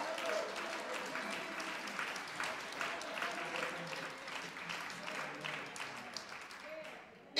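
A church congregation at a noon Bible study claps in praise, a steady dense wash of hands with voices mixed in, sustained at moderate level before a sudden burst at the end.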